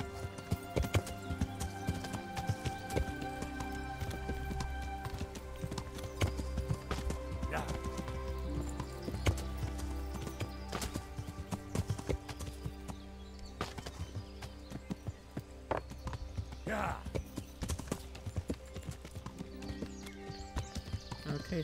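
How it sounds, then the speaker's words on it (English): Horse hooves clip-clop steadily along a path in Kingdom Come: Deliverance, a continuous rhythmic patter at close range over a dense bed of game ambience and music, with an occasional whinny and talk over the top. "we're gonna get off of Pebbles, the horse"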